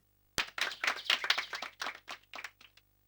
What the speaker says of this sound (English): The audience claps sound like they're done in a recording studio and couldn't sound more out of place.